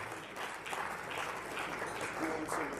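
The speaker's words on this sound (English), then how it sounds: "let's give Uratile Munichwa a round of applause as well" Steady applause from an audience at an anniversary gala dinner for students receiving certificates, a dense even wash of clapping lasting a few seconds at moderate level.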